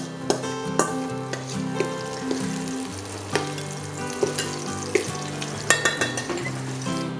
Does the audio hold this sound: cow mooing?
no